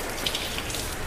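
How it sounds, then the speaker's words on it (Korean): Steady rain falling in the dark side-scrolling puzzle game Limbo, a continuous, even hiss of drops pattering on a surface throughout, with a few slightly brighter splashes and no voices. "하지만 비가 주룩주룩 오네"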